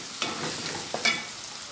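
Potatoes fry in a pan, a continuous bright sizzle broken by two short scraping stirs, close and alone.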